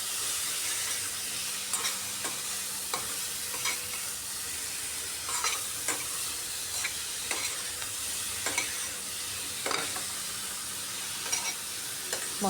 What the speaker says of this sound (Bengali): এভাবে বারবার নাড়িয়ে সবজিটাকে খুব ভালো করে কষিয়ে নিতে হবে।